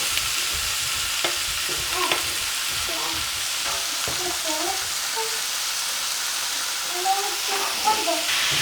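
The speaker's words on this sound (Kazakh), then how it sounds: "Тұрған майға пиязын және тауық етін салып бұқтырамыз" Steady oil sizzle with onion and chicken frying throughout, occasional stirring clatter, and brief muffled voices in the background.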